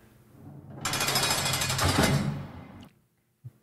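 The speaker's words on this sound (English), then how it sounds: "Sound of jail cell closing." A soundboard effect of a jail cell door closing: a loud, rattling metallic burst swells and holds for about two seconds, then stops, followed by one faint click.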